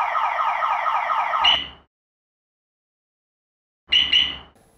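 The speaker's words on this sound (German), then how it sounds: "die Alarmanlage löst auch jetzt sofort einen Alarm aus" A Pandora Smart Pro alarm fitted to a Nissan GTR blares a loud, warbling electronic siren, cuts off into silence, then restarts briefly with short chirping blasts.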